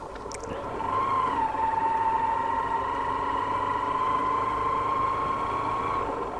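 A motorcycle rides slowly along a quiet forest road, its engine a steady, even drone that swells after the first second and holds level at moderate loudness, with no one talking.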